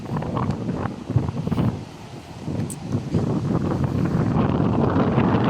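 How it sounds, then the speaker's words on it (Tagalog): Strong wind buffets the microphone at a seashore during a storm, with large waves surging and crashing beneath it, a loud, continuous roar that dips briefly and then builds again. "malakas pa yung hangin oh"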